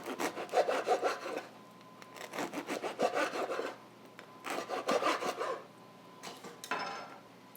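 Bread cut into thin angled slices for crostini with a knife, a rapid rasping sawing stroke repeated in four close bursts, crisp and near, with short quiet gaps between them.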